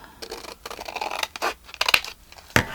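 Scissors snip and trim the edge off a sheet of craft paper, a few close crisp cuts with light rustling and scratching of paper between them, ending in a sharper snap.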